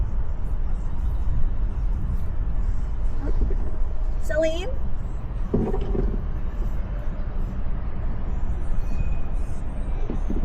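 Steady road and traffic rumble inside a Volvo EX60 with the windows open during a commuting test drive, a constant low roar near and moderately loud, with a brief voice and a few passing tones over it.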